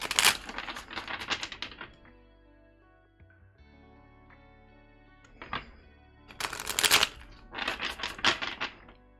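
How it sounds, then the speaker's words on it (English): Tarot cards are shuffled in several crisp riffling bursts, close and fairly loud, with a quieter pause between the first round and the later rounds. "Shuffle the cards."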